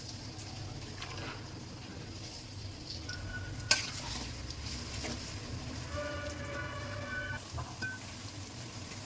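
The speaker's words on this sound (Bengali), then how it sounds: "পেঁয়াজগুলো বেরেস্তা করে নিচ্ছি" Sliced onions frying until crisp in a pan, with a constant low sizzle and occasional stirring scrapes, one sharp clink midway and a faint high chirping in the background.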